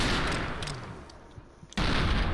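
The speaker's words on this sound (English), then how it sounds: "we are able to dispatch him with a few good headshots from 357 Magnum" A .357 Magnum fires at Legion soldiers in Fallout: New Vegas, in a sharp burst of game gunfire and then a second crisp shot a moment later.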